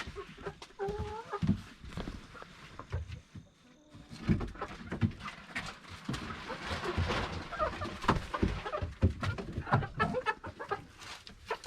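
Several chickens cluck and chatter nearby inside a chicken coop in a busy, continuous jumble, with occasional louder squawks and shuffling sounds.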